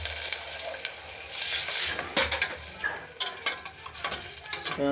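Tempering spices fry lightly in a pressure cooker for moong dal, with a gentle hissing sizzle and a series of sharp clicks and scrapes from a spoon stirring against the pot, no voices.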